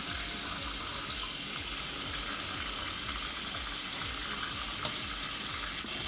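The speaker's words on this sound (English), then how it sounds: "I dump them in my sink, my freshly sanitized sink, and I immediately pour some cold water over them" Cold water runs steadily into a freshly sanitized kitchen sink over cooked beets, a constant close hiss with faint splashing and no voices throughout.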